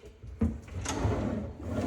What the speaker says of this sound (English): And just in these drawers, pulling out is fine.